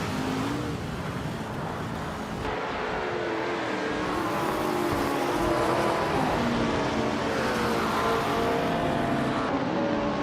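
A vintage 1966 McLaren M1B race car in a racing video game drones steadily at full throttle, engine pitch rising and falling through gear changes, with other cars' engines layered close by throughout.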